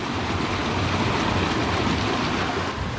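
Spring water pours steadily out of rock along the Horton Creek Trail in Arizona, a continuous broadband rush that stays loud and unbroken with no talking.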